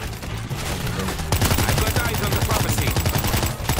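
Rapid automatic gunfire rattles in the zombie shooter World War Z Aftermath, a quieter stretch giving way to loud, sustained bursts of fast repeating shots that fill most of the clip.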